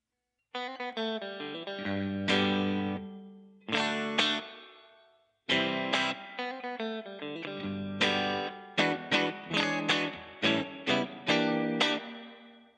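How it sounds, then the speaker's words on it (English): Electric guitar playing a run of chords and short stabs through a Donner reverb pedal on its spring setting, each note trailing off with a lingering, springy echo. "and then on the spring reverb"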